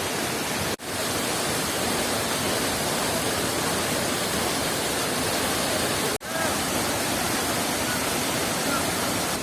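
Semantung waterfall in rainy season with swollen flow, a loud steady broadband roar of falling water filling the whole stretch, broken by two brief dropouts.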